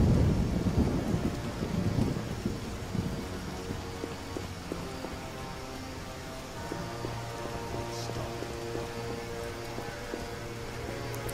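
Steady rain with rumbling thunder in the video game The Witcher, a continuous wash of rainfall and low rolls of thunder throughout, with a low hum joining partway through.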